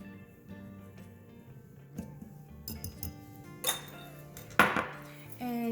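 Flour and baking soda stirred together in a bowl for banana bread, soft scraping broken by light clinks and taps of a utensil against the bowl, quiet and close.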